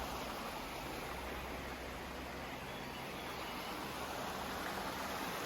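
Steady, broadband rushing of a flowing stream near a cabin on the Appalachian Trail between Neels Gap and Hogpen Gap, constant and unbroken, heard outdoors at moderate distance with no voices.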